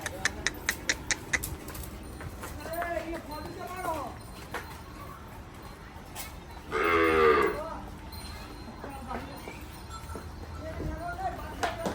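A Kankrej cow on a farm in Banaskantha gives one loud, drawn-out moo about midway, with people talking close by and fainter clatter from the yard before and after.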